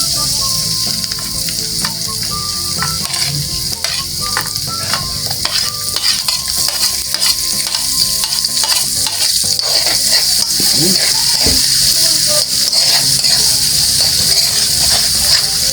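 Garlic and onion frying loudly in a pan before chicken feet are cooked, a continuous close hiss of sizzling oil with intermittent scraping of a spatula, no voices.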